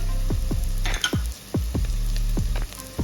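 Okra frying with ground spices in a pan while being stirred, a continuous sizzle broken by a series of sharp scraping knocks from the spoon at an irregular, fairly quick pace, close and clear.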